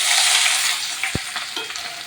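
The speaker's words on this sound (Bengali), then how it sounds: "তেল গরম হয়ে গেছে দিয়ে দেবো পেঁয়াজ কুচি" Chopped onion dropped into hot oil in a pan, a loud crackling sizzle that fades slightly as it settles, with a brief knock of a utensil and light stirring scrapes.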